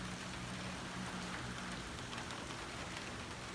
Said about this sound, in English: This is just a little bit of rain